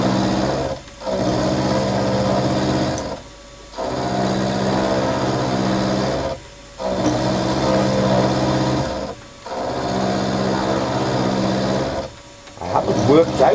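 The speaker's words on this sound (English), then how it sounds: "I need to machine the ends to size now" A lathe machines the ends of a part for a Stuart Models S50 model engine, a steady motor whine with harmonic hum running in long stretches, broken by several brief pauses as the cut stops and restarts.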